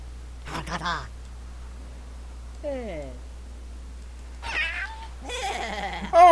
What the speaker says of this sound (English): Oh my goodness, he gets a pet cat.